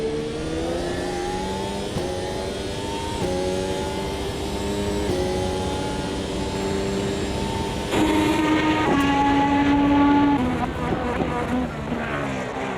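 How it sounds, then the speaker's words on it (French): A race car circles a drying track, its engine revving and climbing through gears in long sweeping pulls, with an upshift and louder surge near the end. "Je vais te faire quelques tours pour voir comment la piste sèche."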